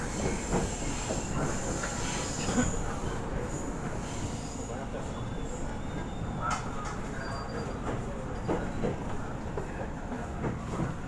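A KAI Commuter Line electric train arrives at Jakarta Kota station with a steady rumble and hiss of wheels and carriages, faint squeals and clanks on top, and a quiet voice underneath.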